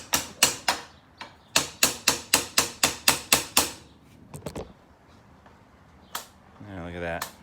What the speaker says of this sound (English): you can fix them with a hammer